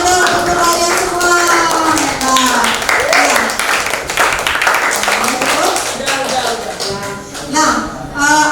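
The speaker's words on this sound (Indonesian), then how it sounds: "tepuk tangan dong untuk kalian semua." Students in a classroom clap for one another after their presentations. The clapping is scattered and tappy and mixes with overlapping children's voices and chatter throughout.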